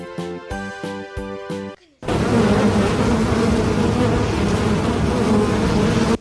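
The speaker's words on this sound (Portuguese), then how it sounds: "Já sei, abelha brava." Angry bees buzzing in a dense, loud, continuous drone that cuts in abruptly after a short musical jingle, played as a sound to guess, with no talk over it.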